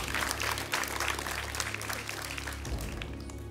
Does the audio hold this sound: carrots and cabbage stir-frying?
no